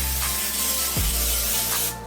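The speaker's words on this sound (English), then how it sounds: "Give her a nice little non-stick spray dash." Non-stick cooking spray hisses from a can onto a pan for a cheesecake crust, one loud continuous close spray lasting about two seconds before cutting off.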